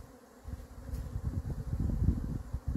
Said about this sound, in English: sounds like a swarm